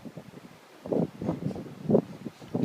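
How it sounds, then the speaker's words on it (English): Gusty wind blows outdoors on a playground, buffeting the microphone in soft, uneven rumbling surges that swell and fade for a few seconds at fairly low volume. "It's windy, huh?"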